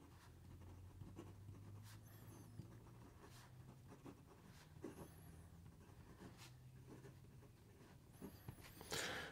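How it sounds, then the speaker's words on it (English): A fountain pen with a stainless steel medium nib writes on paper, producing faint, close scratchy strokes in short irregular runs over a low background hum. "here we go with the rest of the writing sample"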